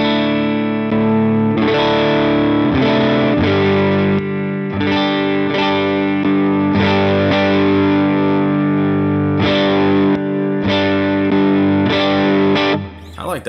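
Electric guitar runs through a NUX Masamune booster pedal with gain and boost backed off, repeated strummed chords sounding steady and close with a light effected, slightly driven tone, heard alone.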